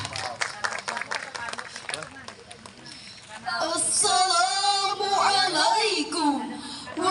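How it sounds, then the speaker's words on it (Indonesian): Audience applause in a hall at a family resilience seminar, starting under voices and crowd murmur, then swelling into sustained loud clapping for the second half. A voice rings out over it. "Berikan tepuk tangan yang meriah."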